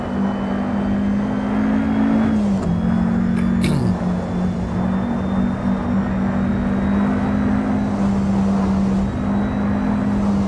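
A Porsche 550A RS Spyder in the racing game Assetto Corsa drones along the Isle of Man circuit, its engine holding a steady, loud hum with a brief dip and shift in pitch partway through.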